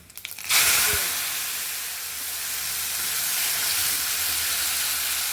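Sweet potato sliding into hot oil with garlic and mustard seeds, giving a sudden loud sizzle after a brief clatter, then a steady close hiss of frying that continues alone.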